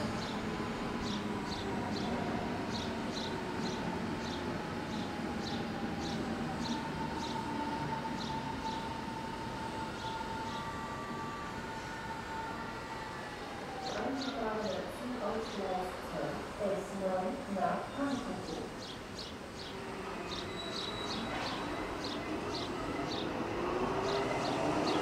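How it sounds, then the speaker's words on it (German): A Berlin S-Bahn class 480 electric train at a station platform, its motors whining in rising and falling tones over steady rolling rumble, with rhythmic clicking, a brief squeal midway, and station announcements in the background. "Der Zug auf Gleis 11, die Linie S9 nach Flughafen Schönefeld."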